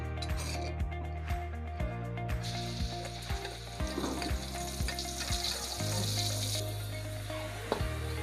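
Ground spice paste frying in hot oil for a pastel basah filling gives a steady close sizzle, with regular scraping clinks of a spatula against the pan throughout.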